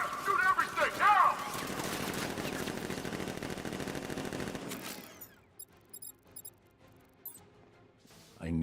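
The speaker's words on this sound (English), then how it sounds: "Guard! Open fire! Shoot everything, now!" Guards open fire in the video game Batman Arkham Knight, a loud burst of rapid automatic gunfire with impacts for several seconds, then cutting out to sparse scattered shots and quieter game sounds.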